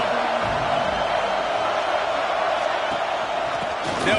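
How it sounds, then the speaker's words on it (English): Stadium crowd noise in College Football 26 at a Tennessee home game against East Tennessee State, a steady, loud wash of massed voices and cheering that holds at an even level throughout. "This crowd ready to make its presence known."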